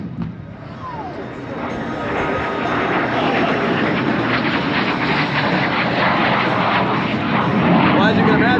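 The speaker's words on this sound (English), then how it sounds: "bringing it on back for another strafing run on the minigun" Aircraft making a strafing run with a minigun at an aviation event, a loud, steady engine roar swelling over several seconds with a dense, rough texture and some faint crackle, continuous throughout with no gaps.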